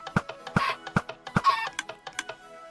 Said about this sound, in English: shoot the eggs out until you get 2 chickens